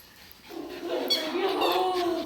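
Several puppies whimpering and yipping up close, high thin whines rising and overlapping for a couple of seconds, with a voice greeting them.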